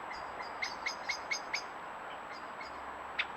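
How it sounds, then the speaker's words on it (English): Faint, high bird chirps repeat in a quick series over quiet background hiss on Holt Island, with a few more calls near the end. "the air fills with the sounds of birds calling"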